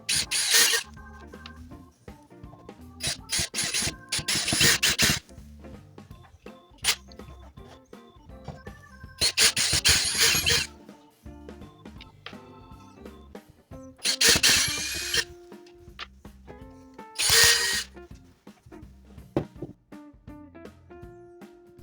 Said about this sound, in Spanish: utilice el taladro inalámbrico en modo atornillador, con la punta de estrella